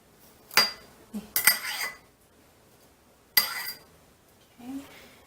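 A utensil scrapes gel from an aloe vera leaf in a few short, sharp scratchy strokes, close up, separated by quiet pauses, with a brief voice in between.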